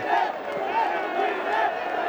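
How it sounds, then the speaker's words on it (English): A cricket stadium crowd at a Bangladesh Premier League T20 match, Dhaka Capitals against Sylhet Strikers, chants in a steady rhythmic roar that swells and dips in regular waves. It stays loud and continuous throughout the clip. "And the crowd is chanting Sylhet."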